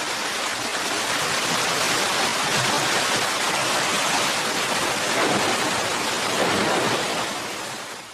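Rainwater streams tumble through a forest, a steady, dense rush of flowing water filling the whole stretch at a constant level without pause, with no voices.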